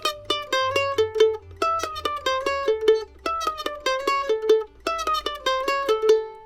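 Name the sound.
mandolin playing a lick on a loop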